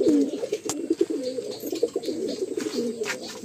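Chatiyal pigeons in a loft, a pair cooing with repeated low, throaty rolling coos in a steady run, close and clear, with faint background noise.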